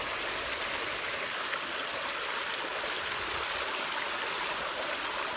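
Water flowing steadily around a natural hot springs pool on a sunny day, where cold stream water is being diverted past the hot spring area; a continuous close rushing, trickling wash with no voices.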